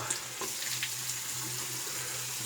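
Steady broadband rush of water running from a bathroom tap into a sink while a face is wetted before a shave, continuous and close with no talk.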